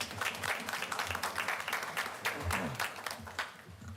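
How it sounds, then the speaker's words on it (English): Audience applause at a school board meeting for multimedia specialist Kennedy Davis, steady dense clapping from a room full of people, sustained throughout. "Can we give her a round of applause?"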